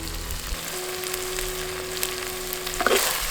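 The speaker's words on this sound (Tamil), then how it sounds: "தக்காளி வதங்கும் போது கொஞ்சம் உப்பு சேர்த்து தக்காளியை நல்லா வதக்கிடலாம்" Tomatoes sauté in a pan for a green sundakkai tamarind curry, giving an even, close frying sizzle under a faint steady hum, with a few stirring clinks near the end.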